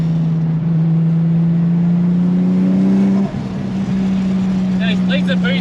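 A car engine with a booster and big exhaust holds a loud, steady drone with rising harmonics, dips briefly partway through, then settles back to idle while a voice talks over it.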